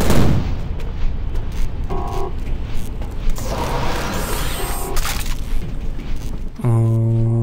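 Grenade explosions in the video game Prey boom and crackle repeatedly amid gunfire-like bursts, with short electronic tones chiming in between.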